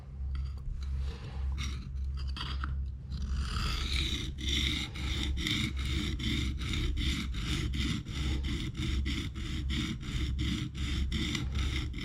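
A knife bevel is sharpened on a coarse 220 grit stone in rapid, even back-and-forth scraping strokes, a rhythmic gritty rasp repeating close by, over a low steady hum.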